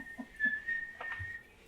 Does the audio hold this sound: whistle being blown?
yes